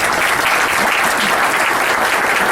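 Loud, sustained applause from a large audience at a Rotary Club meeting, honoring a cancer center board, a dense steady wash of clapping with no pauses.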